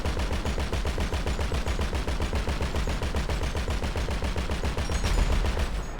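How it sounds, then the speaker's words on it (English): A .50 cal machine gun firing at a Hydra jet in a video game, one long unbroken burst of rapid, evenly spaced heavy shots, loud and continuous with no talk. "against the Hydra, the 50 cal is not very effective, even though I'm hitting most of my shots"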